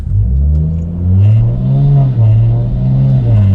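A Toyota Supra with an eight-speed automatic accelerates hard, its engine note climbing and dropping in pitch as it shifts up through several gears in quick succession, loud and close throughout.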